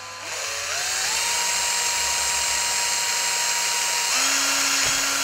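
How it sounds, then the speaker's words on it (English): A very small drill bores through a fishing rig, a steady high whine starting slowly then rising in pitch, with a shift in tone near the end as the bit works through. "Give myself a very small drill. It's only going to take the diameter of the line. And I'm just going to drill through there."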